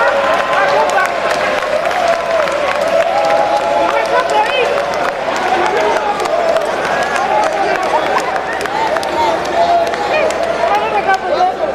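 Audience at a political rally clapping steadily through the whole stretch, a dense, loud wash of applause with crowd noise mixed in and some talk underneath.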